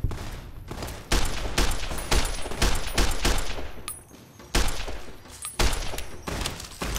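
Rapid bursts of gunfire in Fallout: New Vegas, loud and close, fired in repeated volleys with short pauses between them and no talking over the shots.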